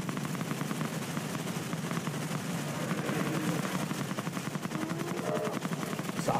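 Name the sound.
weapon gunfire in Avatar Reckoning video game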